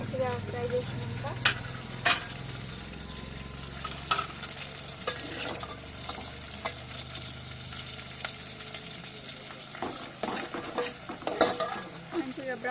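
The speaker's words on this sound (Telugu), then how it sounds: "మంచిగా బ్రౌన్ కలర్ వచ్చే వరకు ఫ్రై చేసుకుంటున్నాను." Onions for a country chicken curry fry in oil while a spoon stirs them steadily, giving a continuous sizzle broken by frequent clattering scrapes against the pan, close and moderately loud.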